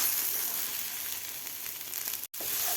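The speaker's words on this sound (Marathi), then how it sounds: "आता व्यवस्थित आपल्याला एक भेंडी मोठ्या गॅसवर व्यवस्थित हलवून घ्यायची आहे." Okra (bhindi) stir-fried with salt and spices in a pan on high flame, giving a loud, continuous sizzle with faint stirring scrapes and one brief break near the end.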